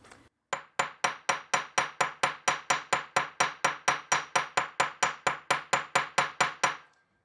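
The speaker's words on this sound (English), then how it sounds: "I'm going to complete this by taking the hammer to the other half of the earring" About two dozen sharp metallic hammer taps on a small metal earring, evenly spaced and steady, each ringing briefly, close and clear with no talking.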